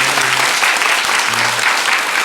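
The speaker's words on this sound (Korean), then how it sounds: "우리 박수로 한번 환영하도록 하겠습니다" A church congregation applauding steadily during a Sunday morning service, dense clapping throughout with a faint voice underneath.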